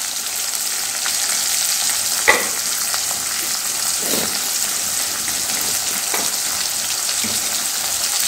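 Ajwain carom seeds dropped into hot oil for chicken lollipop gravy, giving a loud, continuous hiss and crackle up close, with a few sharper pops and faint stirring clicks.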